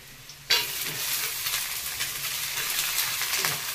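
Chopped onion hits hot oil in a pan alongside semolina for upma, bursting into a sudden loud sizzle that settles into a steady crackling fry with faint stirring.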